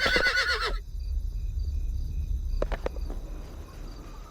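A horse mount whinnies loudly in the Sacred Reborn action RPG, a short close neigh followed by a few sharp clip-clop hoof beats over a steady insect and cricket ambience.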